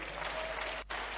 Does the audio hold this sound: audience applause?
yes